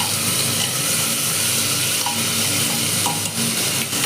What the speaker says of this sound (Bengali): দেখো ভাজা ভাজা হয়ে গেছে।